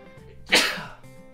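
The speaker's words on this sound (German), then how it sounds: "Und jetzt muss ich auch gleich niesen" A single loud, close sneeze bursting out suddenly after a short quiet breath, then fading away in under a second.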